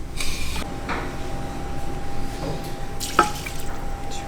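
Two cups of water are poured from a tap while homemade tacos are being made, giving a steady close splashing rush with a few faint knocks and a brief clink near the end, with no talking.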